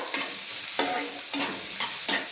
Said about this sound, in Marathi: याला छान 5 मिनिटं परतू द्यायचं।